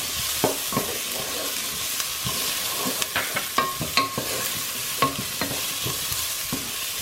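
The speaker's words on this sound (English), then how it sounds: "Now I'm adding 4 cloves of minced garlic. Cook that for about a minute." Four cloves of minced garlic sizzle steadily in a hot pan, a constant frying hiss broken by frequent light stirring scrapes and clicks.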